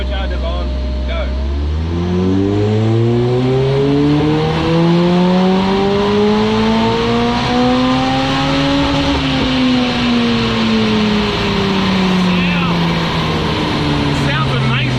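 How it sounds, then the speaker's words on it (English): A supercharged Lotus with a Corolla-derived 180 horsepower engine at full throttle, its loud rising engine note climbing through the gears with a whining supercharger squeal above it, and voices talking over it inside the car. "You can hear the supercharger squealing, eh?"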